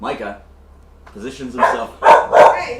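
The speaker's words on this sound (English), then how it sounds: "That was our dog protecting us from the mailman." A pet dog barks protectively at a mailman, a few loud, close barks bursting out after someone speaks, with a raised voice shouting over them.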